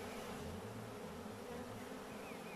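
Honey bee swarm being collected high up, buzzing around the hive box: a dense, continuous droning hum, steady and fairly faint, with individual bees passing nearby.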